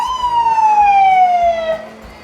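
A loud siren wails in a single falling sweep at an Independence Day parade in Ketchikan, its pitch gliding steadily downward before fading, with faint low thumps underneath.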